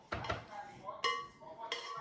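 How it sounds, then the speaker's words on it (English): Spatula scraping the sides and bottom of a mixing bowl of koulourakia dough with softened butter, giving a few distinct scraping clinks against the bowl, close and fairly quiet. "got the spatula and I scrape all the sides and also the bottom"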